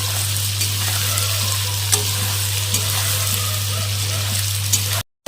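Onion with salt and a little turmeric frying lightly in a pan gives a steady, moderate sizzle with faint stirring scrapes, alone and close, over a constant low hum, ending abruptly.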